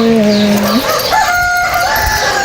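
A rooster crows loudly and close in a long drawn-out call, with further crowing and bird sounds layered over a steady, busy background for the whole stretch.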